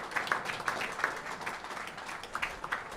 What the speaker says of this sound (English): A massive round of applause for all they do for this group.